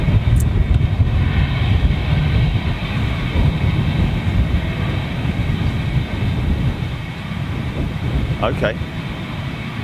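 Qatar Airways airliner at Manchester Airport, a sustained low engine rumble heard at a distance, with a person speaking briefly over it.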